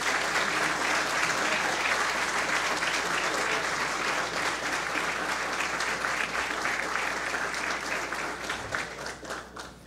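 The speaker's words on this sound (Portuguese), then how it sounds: "Uma salva de palmas, por favor." An audience applauds at a municipal ceremony in Joinville: steady, dense clapping from a crowd, loud and continuous throughout, thinning slightly toward the end.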